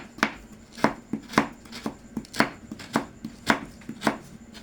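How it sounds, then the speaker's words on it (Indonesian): A knife slicing through a block of palm sugar (gula merah) for klepon filling, about a dozen crisp, evenly spaced cuts landing on a board, close and clear with no talk. "Kita iris dulu gula merah untuk isiannya ya."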